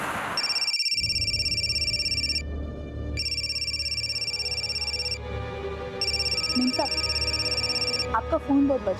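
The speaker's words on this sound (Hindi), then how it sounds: "उसका फोन बहुत बज रहा है।" A phone rings in a steady repeating electronic tone with brief gaps, loud and continuous, over low background hum, with faint voices and clicks near the end.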